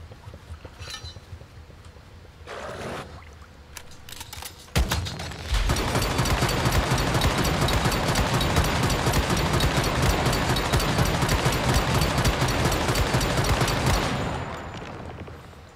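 Sustained rapid gunfire from the DE.50-Jaws in the video game Once Human, a dense loud stream of shots running about nine seconds after a few scattered earlier reports, then cutting off abruptly.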